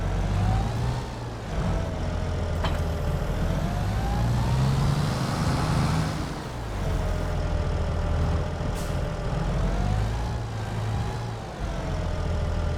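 In Farming Simulator 22, a tractor engine drones steadily and loudly throughout, its pitch rising and falling slightly as it works, with a faint whine on top and no talking.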